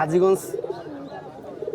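A pigeon coos briefly near the start, a low throaty sound, followed by quieter background murmuring at a pigeon market in Fatullah, Bangladesh.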